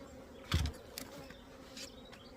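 Honeybees buzz around a hive during a hive split, a soft, steady hum with a few faint rising passes and a brief bump near the start.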